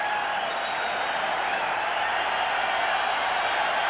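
Football stadium crowd at an NFL game between the New York Jets and Detroit Lions reacts with a dense, steady roar of many voices, loud and unbroken, with some cheering mixed in.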